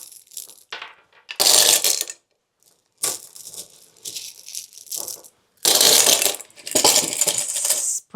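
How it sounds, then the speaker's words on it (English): River rocks poured into the bottom of a plant pot for drainage, heard as loud bursts of clattering, rattling stones in several separate pours with short silent gaps between them. "We're going to take some of these river rocks, put them in the bottom. Noisy."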